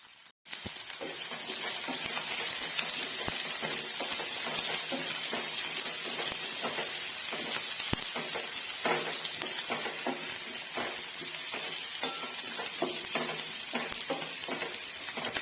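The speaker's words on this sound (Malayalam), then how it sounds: "വലിയ ഉള്ളി അരിഞ്ഞത് ചേർത്ത് ഒന്ന് വഴറ്റി എടുക്കാം" Garlic and chopped large onion sauté in hot oil in a pan for a Kerala-style curry, a steady close sizzle and hiss running throughout with repeated stirring scrapes, no voices.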